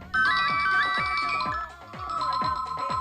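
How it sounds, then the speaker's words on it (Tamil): A mobile phone ringtone plays a bright, repeating electronic melody with a steady pulsing beat, loud and close, briefly dipping before resuming, with no voices. "இந்த ஃபோன் கொஞ்சம் அட்டன் பண்ணுங்க."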